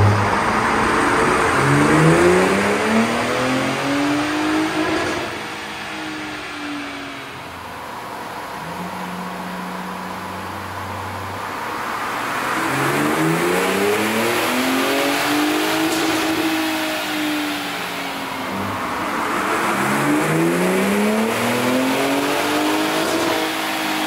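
A Gen 3 Ford Raptor truck on a dyno, tuned and running 91 octane, revs hard in repeated long pulls, its engine climbing in pitch and roaring loud, then easing off between runs.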